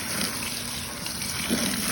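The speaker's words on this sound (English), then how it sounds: "I fill in the container up with water, letting them sit, draining the water and repeating the cycle." Water running into a container of crawfish being purged, a steady rushing gush at moderate level that continues unbroken through the short stretch.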